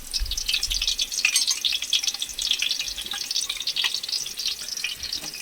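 Chopped onion frying in hot oil for a crab curry, giving a steady, close, crackling sizzle with fine spattering pops throughout and no voices.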